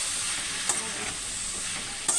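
Spring onion dry stir-fry sizzles steadily in a hot pan as it is stirred, with a couple of brief scraping clinks of the utensil against the pan, no speech.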